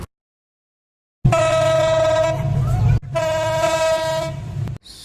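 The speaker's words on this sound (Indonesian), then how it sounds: "Perbedaan suara suling lokomotif." A locomotive horn sounds twice: after a moment of silence, a loud, close, brassy blast holds for almost two seconds, cuts off briefly, then a second blast of the same tone follows.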